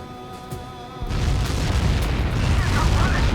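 A missile striking an aircraft in the Ace Combat 7 jet combat game: a warning tone cuts off into a loud, sustained roaring explosion that rumbles on and fills the scene.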